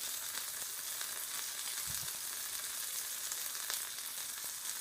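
A pork chop fries in a pan with a steady, soft hiss of sizzling grease and occasional small pops, close and constant with no talking over it.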